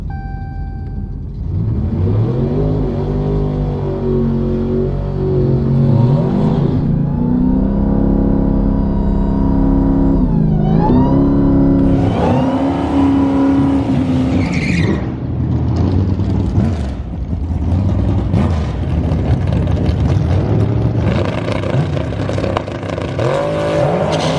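A Dodge Hellcat Challenger makes a drag strip pass, its engine loud and close, roaring and climbing in pitch through the gears with brief shifts between pulls.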